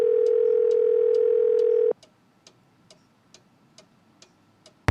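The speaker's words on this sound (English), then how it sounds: "You can use this phone to dial a number yourself" Steady phone dial tone in a Nancy Drew mystery game, a loud continuous hum that cuts off abruptly, followed by a faint, regular ticking like a clock.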